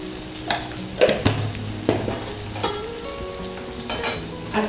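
Mango chutney with turmeric and sugar candy being stirred in a pan, soft sizzling bed with several distinct spoon scrapes and knocks spaced irregularly, no talking.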